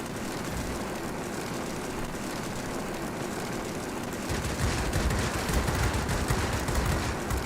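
Gunfire raking a player's aircraft in World of Warplanes, a steady rattle of rapid shots over a droning engine that grows louder and denser midway, with no voices.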